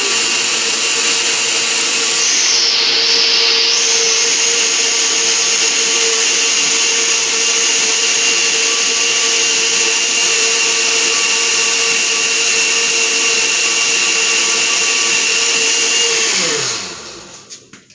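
A blender runs at full speed blending boiled sea moss, a loud steady motor whine with a high mechanical hum that holds for about sixteen seconds before winding down and stopping.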